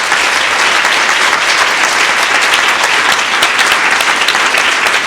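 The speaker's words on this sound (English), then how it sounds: "One last round of applause for our amazing students." Audience applause for students at the close of a school board of education special meeting, steady and dense clapping throughout, loud and sustained with no speech over it.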